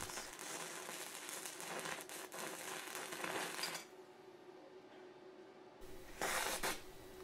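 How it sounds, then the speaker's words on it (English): A stick welder rod burns through thin copper pipe with close, crackling sputters that run steadily, stop for a couple of seconds and then flare up again in a short burst. "The welding rod burns right through this thin copper pipe"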